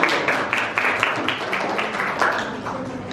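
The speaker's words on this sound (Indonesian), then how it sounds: "Kita beri tepuk tangan." A classroom of students clapping together, a modest burst of quick, scattered handclaps that holds fairly even at moderate loudness and tapers off slightly toward the end.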